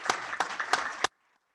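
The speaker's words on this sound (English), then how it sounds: "can we give her a round of applause?" Four sharp, evenly spaced claps ring out at a Rotary Club weekly meeting, then stop abruptly into near silence.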